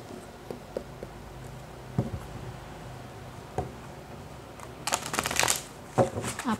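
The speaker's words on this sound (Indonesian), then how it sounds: "ketika aku shuffle kartu ini" Tarot cards being shuffled give scattered crisp taps and flicks, then a dense riffling burst followed by a few more sharp card slaps near the end.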